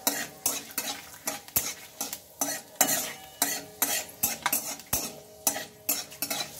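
Bay leaves, panch phoron and a dry red chili frying in oil, close sizzling punctuated by rhythmic metal spatula scrapes and taps against the pan, about two per second, with no talking.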